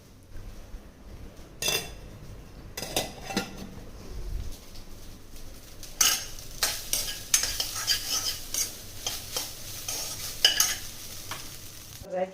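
Ghee sizzling in a hot pan while cooking, a low steady frying hiss punctuated by sharp clinks and scrapes of a utensil stirring against the metal, fairly close and without talk.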